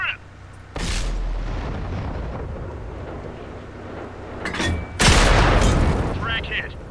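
Long-range artillery shells strike a tank in World of Tanks. Two loud booming impacts land several seconds apart, each with a rumbling tail, and a voice speaks between them.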